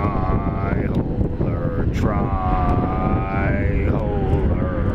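A jet airliner taking off at Atlanta airport: a loud, steady roar with rising engine tones, heard up close over strong wind buffeting the microphone.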